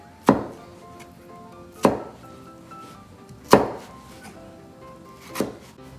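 A knife chops cucumber into small sticks on a cutting board, giving four separate, close, sharp thunks spaced about two seconds apart over a quiet background.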